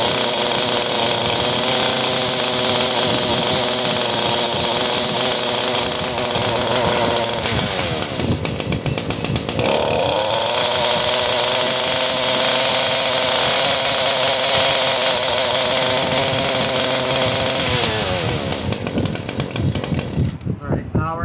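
A running Echo PE-200 gas edger's small two-stroke engine blares loud and close at full throttle, a steady buzzing drone for over twenty seconds with slight pitch dips midway.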